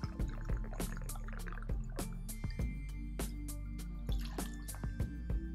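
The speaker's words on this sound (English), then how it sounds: "we're going to pour an ounce of cognac, or in our case, brandy" Brandy being poured into a jigger or glass while mixing a Between the Sheets cocktail, heard as a series of small drips and liquid splashes over a steady low background hum, close and fairly quiet.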